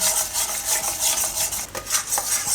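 Semolina and gram flour are stirred and roasted in ghee, giving a steady close scraping and rubbing of a spoon against the pan with a continuous sizzle, alone without talk.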